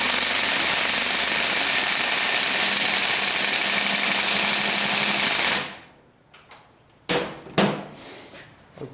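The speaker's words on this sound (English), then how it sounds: "So I'm going to break these into halves to make it easier to wire wheel them." A wire wheel grinds and whines against the halves of a 1976 Corvette brake caliper in a continuous loud burst. It then cuts out, leaving a few sharp clanks and knocks.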